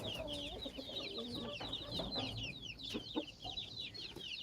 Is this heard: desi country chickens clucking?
yes